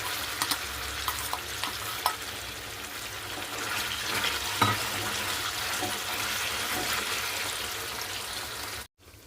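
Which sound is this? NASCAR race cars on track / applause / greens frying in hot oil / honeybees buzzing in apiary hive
greens frying in hot oil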